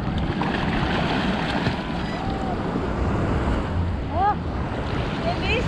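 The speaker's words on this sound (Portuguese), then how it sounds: "Tá ficando mais forte já a onda." Ocean waves breaking steadily on a beach in Bahia, a constant close roar of surf and wind buffeting the microphone, with brief high bird calls over the wash.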